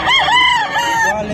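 A three-year-old rooster crows loudly and close by, a single wavering cock-a-doodle-doo call.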